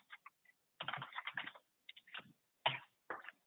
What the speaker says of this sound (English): continue typing